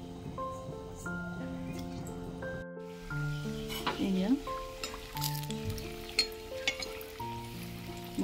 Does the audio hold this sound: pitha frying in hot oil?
yes